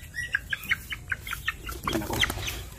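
A red-faced gamefowl stag clucks nearby in a quick series of short, sharp calls, then gives a few looser squawks, moderately loud against a quiet farmyard background.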